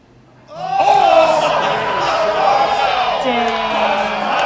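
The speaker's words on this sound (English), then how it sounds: "The crowd is losing it here." Live crowd at an Ultimate Schmoedown semi-final event roaring and whooping loudly, a sustained swell of cheering voices that rises sharply after a brief quiet start and keeps going.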